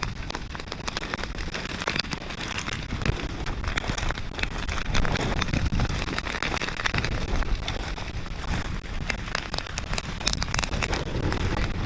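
Stubble burning across a harvested paddock, with a steady, dense roar and crackle of flames mixed with gusting wind buffeting the microphone, continuous and loud throughout.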